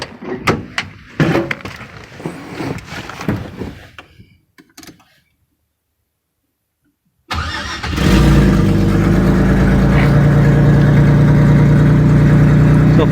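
After a few seconds of clanking and handling noises and a brief silence, a turbocharged Isuzu engine cranks and catches, then settles into a loud, steady idle that continues to the end.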